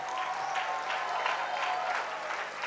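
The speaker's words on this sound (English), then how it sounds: "Please give yourself a big hand of applause." Applause from an audience at a school annual day function, a soft, continuous wash of clapping heard from a distance at moderate level, with no voices over it.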